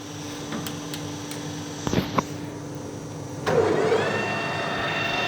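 A Colchester Master 2500 lathe runs with a steady motor hum, a few clicks partway, then steps up to a higher speed with a louder, rising whine.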